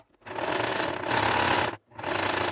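Sewing machine stitching a fabric seam in two close, loud, steady runs of rapid mechanical whirring, split by a short stop.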